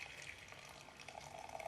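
Coffee pours from a French press in a steady, soft liquid stream lasting a couple of seconds, close and fairly quiet, with no talk over it.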